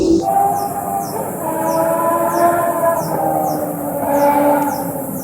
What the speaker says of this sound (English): That was a very loud motorcycle